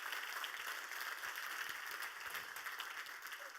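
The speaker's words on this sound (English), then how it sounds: "let's just have another round of applause for the extraordinary ways they're telling it" Applause from an audience at a 2018 mid-term review presentation, a soft, distant, even wash of clapping that holds steady for several seconds without voices on top.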